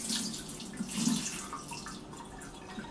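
Water draining and splashing off washed Brussels sprouts in a kitchen sink, a soft running trickle with a brief louder gush near the middle, close and without talk.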